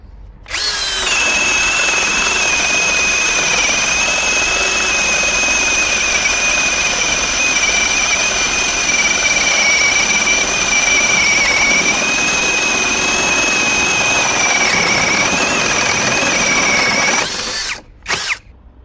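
A Grosser GCD 520Q cordless drill whines at a steady high pitch for about seventeen seconds, driving an 8 by 100 lag screw into a wooden block, then abruptly stops with a couple of short bursts.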